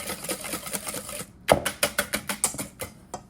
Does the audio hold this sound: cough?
no